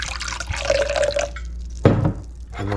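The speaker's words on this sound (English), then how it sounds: "So we're just gonna pour a little bit of this in our cup." Strained sumac berry tea, brewed from foraged berries, is poured into a cup in a thin, close trickling stream that rises in pitch as it fills, followed by a brief clink and a short second pour.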